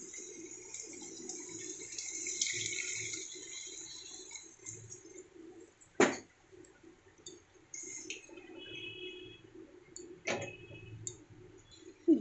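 Prawn malai curry gravy made with coconut milk simmers in a pan, giving a soft hissing bubble with scattered small pops and two sharper clinks, quiet and close, with no voices.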